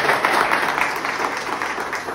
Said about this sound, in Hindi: एक बार ताली बजा दो